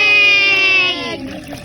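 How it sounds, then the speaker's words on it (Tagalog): Water poured into a container while making a mango shake for kids, a smooth tonal pouring stream with a rising pitch as it fills, close and fairly loud, trailing off after about a second. "Tapos, lalagyan natin ng Tubig!"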